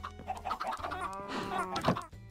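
Minecraft chickens cluck in a farming game, with several short, bright clucks and chirps overlapping at close range above a steady soft background, and no talking.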